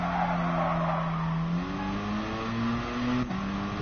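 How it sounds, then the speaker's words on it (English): Tyres skid and squeal in a sustained, loud drift of an RX-7 in Gran Turismo, layered over a steady revving engine whose pitch climbs, dips briefly near the end and then resumes. "My car really wants to drift"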